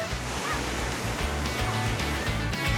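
Ocean waves wash continuously onto a beach, a broad steady surf rush with a low rolling churn underneath, close and fairly even throughout.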